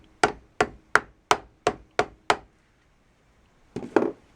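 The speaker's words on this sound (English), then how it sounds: "Really glad I have that rawhide mallet." A rawhide mallet taps a snare drum part flat: seven quick, evenly spaced, crisp knocks close by, then a pause and a short cluster of a few more taps.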